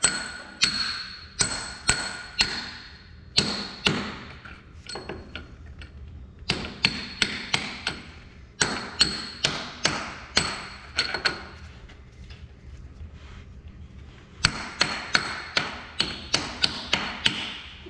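Hammer blows drive out a stuck part on a leaking, greasy assembly. Sharp metallic strikes land in rapid bursts of several hits, each burst separated by short pauses, close and loud.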